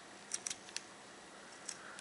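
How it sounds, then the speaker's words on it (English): Sharp scissors snip the rough, hardened edges off a paracord bracelet in a few quick, faint, crisp clicks, separated by short pauses, in a quiet room. "I cut these rough edges off with some sharp scissors"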